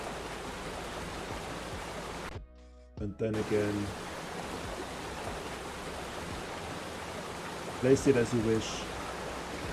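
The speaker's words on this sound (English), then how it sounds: "If you want to do a waterfall, you would use this," Continuous rushing water from a waterfall object placed in the FlowScape landscape game, a steady broadband wash running through most of the stretch, with a brief dropout and someone talking over it.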